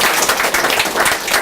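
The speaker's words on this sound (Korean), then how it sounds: "큰 박수 부탁드립니다." Audience applause at a campaign office opening for a Progressive Justice Party by-election candidate, a dense, steady wash of many hands clapping close by, filling the whole brief moment without a break.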